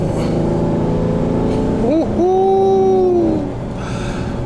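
Car engine revving after a downshift, a steady throaty drone that climbs in a sharp rev around the middle and then holds a high, slowly falling whine before easing off, loud and close throughout.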